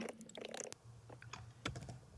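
Keystrokes on a computer keyboard while entering a command on an NXP i.MX 8 EVK setup, a handful of short, close clicks in quick bursts with a pause between them, fairly quiet.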